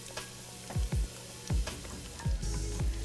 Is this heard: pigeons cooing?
no